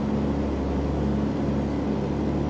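Truck engine in American Truck Simulator hauling a container up a hill on Colombian roads, a steady, loud, low droning hum held at slow pace with no change in pitch.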